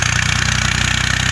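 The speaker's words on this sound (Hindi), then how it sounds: "ट्रैक्टर भी आ चुका है और वो हल भी मार रहा है।" A tractor engine running while plowing a field for maize, a loud, close, steady diesel chug with a rapid pulsing rhythm and broad noise over it.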